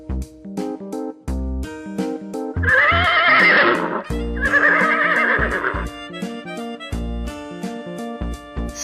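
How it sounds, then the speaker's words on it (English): A horse whinnies with a loud, shaky neigh lasting about a second and a half, then a second neigh follows, both set against a bouncy children's music backing. "Horse."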